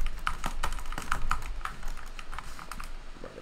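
Rapid typing on a computer keyboard fitted with new keycaps, a close, crisp run of clacking keystrokes that slows and softens toward the end.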